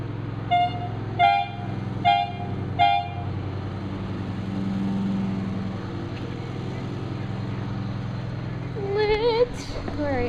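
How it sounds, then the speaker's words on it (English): A vehicle horn toots three short, evenly spaced blasts over a steady low engine hum, followed later by a rising, wavering siren-like wail. "Alright, now we're gonna do 3 honks."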